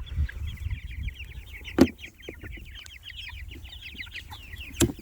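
Meat chickens cluck busily while pecking at dried mealworms, with a dense stream of close, overlapping clucks and two sharp louder calls standing out over a low farmyard rumble; no one speaks.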